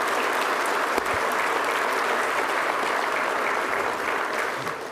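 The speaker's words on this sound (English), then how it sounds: "round of applause for that last story" Sustained applause from an audience at a university center event, dense and steady throughout with no break, filling the room evenly at close range.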